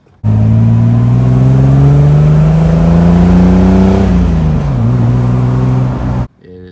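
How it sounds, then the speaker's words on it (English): A Jeep Wrangler TJ's 4-liter straight-six engine runs loud and close, its steady drone rising gradually in pitch, then easing back down before cutting off abruptly. "I thought I'd give you a look at the engine bay here. It's the 4-liter straight 6."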